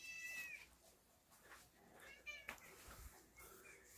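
A house cat meows in a home studio, a few short high meows near the start and middle, fairly faint against quiet room noise with a voice nearby.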